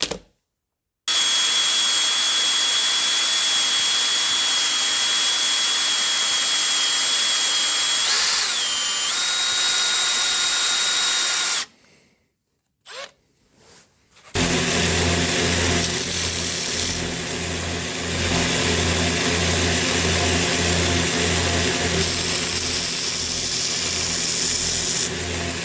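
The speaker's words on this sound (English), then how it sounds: "Get to the grinder, grind off some material here" Grinder taking material off the kick shaft of a Honda XL250 motorcycle, a loud steady high-pitched whine that runs long, cuts out briefly, then returns with a rougher, heavier grinding tone.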